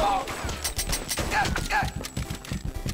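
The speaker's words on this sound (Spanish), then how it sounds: "Sí, 12 disparos de láser" Rapid clicky laser gun shots fire in quick succession with bright chirping tones in the video game Not a Hero, under excited talking.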